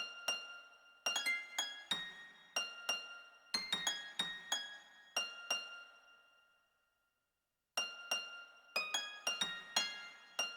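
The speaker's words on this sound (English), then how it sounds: "And then I also had this harp here." A harp part in a track plays quiet, bright plucked notes in short clustered phrases that ring and decay, falls silent for about a second, then resumes with more plucks.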